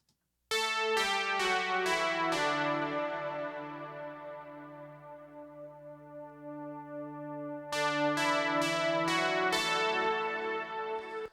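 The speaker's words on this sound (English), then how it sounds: "there's another keys track from the DX7 that is doing the lead" A DX7 synthesizer keys track plays a lead line. A bright, bell-like run of quick struck notes sustains and slowly decays, then a second run of rapid notes follows, close and alone with no voices.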